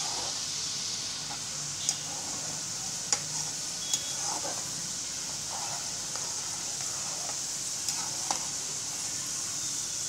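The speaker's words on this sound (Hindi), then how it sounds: "ये मैंने दूसरे जो डाले थे वो भी अच्छी तरह से तल लेती हूँ।" Sev savouries frying in hot oil in a kadhai for a fasting falahari chiwda, a steady soft sizzle and hiss with a few faint clicks of a stirring spoon, moderately quiet throughout.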